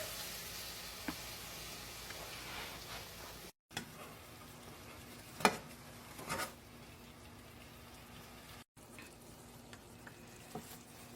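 Meat frying in a pan for Puerto Rican pastelon, a quiet steady sizzle with occasional taps and scrapes of a utensil, close and alone with no voices.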